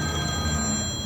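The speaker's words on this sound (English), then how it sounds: "that's the phone from the Journal-Sentinel." A telephone ringing, a short steady electronic ring with bright sustained tones over a low background hum.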